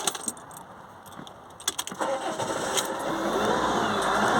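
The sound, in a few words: van diesel engine starting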